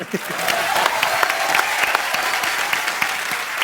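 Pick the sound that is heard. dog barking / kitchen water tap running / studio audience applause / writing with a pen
studio audience applause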